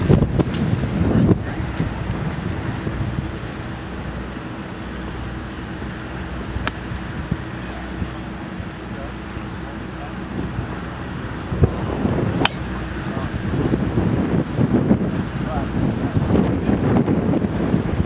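Steady wind buffets the microphone at an outdoor golf practice range during the 2008 AT&T Classic, a continuous rushing roar with gusts and a few sharp knocks, no talk.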